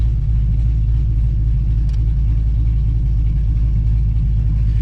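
A stage 2 cammed Pontiac G8 GT V8 engine and exhaust while driving, a loud steady low rumble with a slight choppy pulse, close and continuous.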